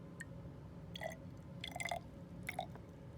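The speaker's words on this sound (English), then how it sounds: "We're going to add the hydrogen peroxide up to about there, about an inch, inch and a half." Hydrogen peroxide is poured onto potassium iodide in a lab container, giving faint, sparse liquid trickles and drips scattered over a quiet background.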